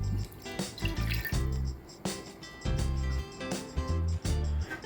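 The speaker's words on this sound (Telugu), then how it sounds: "కాస్త వాటర్ వేసి వేడి చేసి పాడేస్తాను" Water is poured and drips into a clay cooking pot set on a stove, giving splashing, trickling bursts in uneven spurts, close and fairly loud with no voices.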